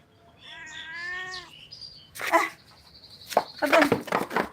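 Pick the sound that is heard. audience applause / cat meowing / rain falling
cat meowing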